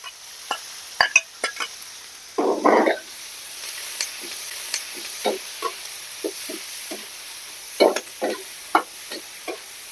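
Garlic scapes stir-fried with ginger, garlic, pickled chilies and small hot chilies in a wok for a pork-ear dish: a steady sizzle with repeated scraping stir strokes, plus a louder clattering burst early on, and no talking.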